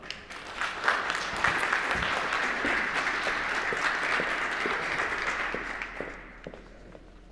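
An audience at a conference gives a speaker a full round of applause, dense and steady for about six seconds before tapering off.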